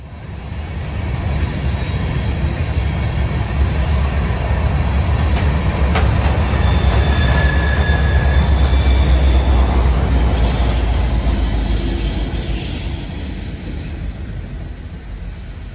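A BNSF freight train led by two SD70 locomotives, one rebuilt SD70ACe and one in executive paint, rolls past at Mammoth Spring, Arkansas. The heavy rumble swells, holds, then eases off, with wheel squeal and clatter.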